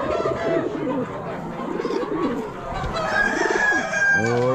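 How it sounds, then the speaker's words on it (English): Pigeons coo and call among other poultry at an Amish livestock auction, steady bird sounds layered with crowing and clucking from nearby fowl, with an auctioneer's voice and crowd murmur mixed in. "More pigeons."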